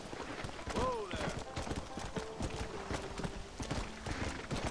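Horse hooves clip-clopping in the video game Red Dead Redemption, a steady run of close hoofbeats with a brief whinny early on, while someone talks over it.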